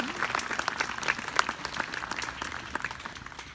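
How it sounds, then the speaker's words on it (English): An audience claps steadily throughout a Killed In Action memorial tribute ceremony, a dense patter of many hands at moderate distance that eases slightly toward the end. "You're clapping."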